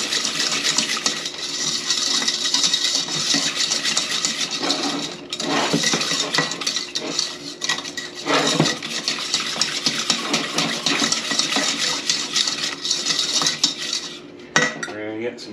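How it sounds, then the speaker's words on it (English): A whisk scrapes and clatters steadily against a bowl while lemon dump cake batter is mixed, a busy metallic rattle that continues nearly without pause. "Whisk this in until it's smooth"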